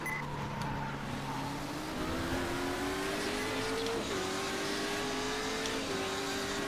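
Prototype race cars, an Audi and a Porsche among them, in the GTR2 racing game at Bahrain, engines whining as they rise in pitch and pass one after another, with steady gear shifts and no talk.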